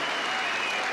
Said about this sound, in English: applause as Charlton leaves league football